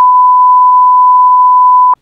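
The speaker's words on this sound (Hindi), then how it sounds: "सीपीयू के अंदर से आवाज़ आ रही है बीप बीप बीप बीप" A computer CPU sounds one continuous, steady electronic beep tone at startup, loud and alone, lasting about two seconds before cutting off abruptly.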